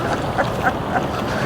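A diving water bird calls on a flowing river, several short duck-like quacks spaced about a third of a second apart, faint and mid-distance over steady water and outdoor noise.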